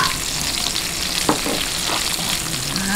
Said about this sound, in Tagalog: Sunod natin ang sibuyas.